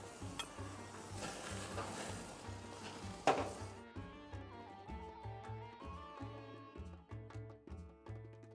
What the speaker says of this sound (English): the tomatoes are starting to cook